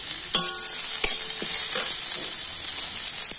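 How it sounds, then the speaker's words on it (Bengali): Chopped onions and whole cumin seeds sizzling in hot oil, a bright steady hiss close by with a few sharp clinks and scrapes of a utensil early on. "তেলের মধ্যে আমি দিয়ে দেবো গোটা জিরে, দিয়ে দেবো পেঁয়াজ।"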